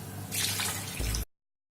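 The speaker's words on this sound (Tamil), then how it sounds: "அதனால வந்து தண்ணி ஊத்துறோம்" Water pours steadily into a cooking pot for chicken biryani in a rushing splash that lasts about a second, its pitch shifting briefly as the pot fills before the flow cuts off into silence.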